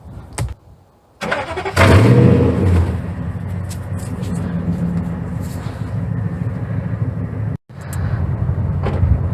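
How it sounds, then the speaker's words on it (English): A 2004-2015 Nissan Titan pickup truck engine, one that bogs down, cranks briefly, then catches and starts with a loud surge before settling into a steady idle, with a short cutout near the end. "when I started the engine"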